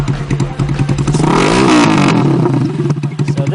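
Loud revving of a mildly chopped custom motorcycle through a loud exhaust, with a sustained throttle rise and fall near the microphone and steady engine pulses throughout.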